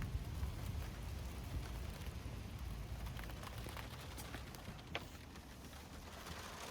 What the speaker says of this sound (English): I'm getting rained on, you guys, really bad.